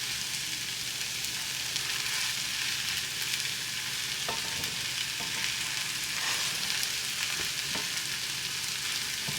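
A flattened vegetarian, gluten-free potato and egg bake fries in a pan with an even, close sizzle and crackle, a few soft utensil taps and scrapes surfacing now and then, no voices.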